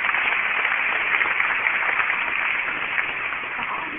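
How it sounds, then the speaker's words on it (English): An audience applauds at an aquatic animal show, a steady, muffled wash of many hands clapping at moderate distance, sustained throughout without voices. "Let's give her a big round of applause"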